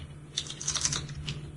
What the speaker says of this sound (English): what are you typing?